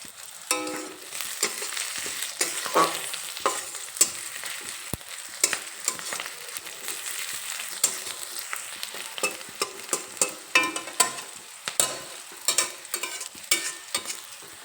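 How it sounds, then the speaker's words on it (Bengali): Onion, garlic and green chilli frying over medium flame while being stirred in a pan for radish greens: a close, continuous sizzle broken by frequent sharp scraping and spatula taps at an uneven pace. "সব কিছু একসঙ্গে কিছুক্ষণ ভেজে নেব এই পেঁয়াজটা হালকা একটু নরম হওয়া পর্যন্ত সব কিছু একসঙ্গে ভেজে নেব"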